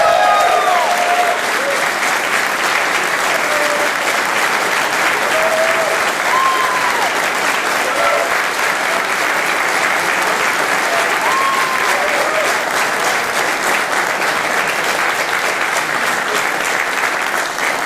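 Loud, sustained applause from a large crowd at a campaign rally, with clapping and cheering that stays at full strength throughout, unbroken by pauses.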